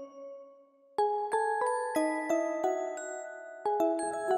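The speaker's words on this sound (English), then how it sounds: "Two street bells panned left and right, and same two marimbas panned left and right at different octaves." Street bells and marimbas played in a song riff, panned left and right with the marimbas at different octaves, giving bright, ringing struck notes in an uneven, overlapping pattern.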